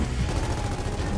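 Gunfire in the video game Gears of War 4 campaign, a dense continuous burst of rapid shots filling the brief moment loudly with no pauses.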